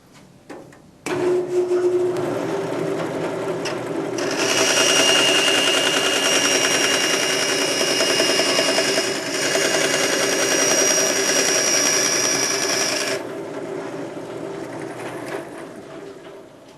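Close, loud and sustained, a bandsaw in a machine shop cuts through larger metal stock, rough-sizing it, with a steady grinding whine that builds after the blade engages and holds for about nine seconds before dropping away.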